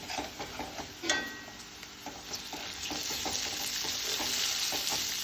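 Sliced onions sizzle steadily in a hot pan for a chicken curry, with stirring scrapes and clinks on top and the sizzle building in strength toward the end. No one speaks.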